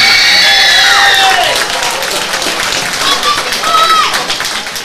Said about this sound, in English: And please keep the applause going, Cooper Brown.